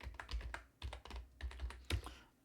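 Quick bursts of key presses on a computer keyboard, close and fairly soft, clustered into a few short runs of rapid clicks with brief pauses, without speech.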